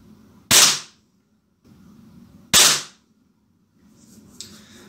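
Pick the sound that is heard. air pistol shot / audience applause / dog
air pistol shot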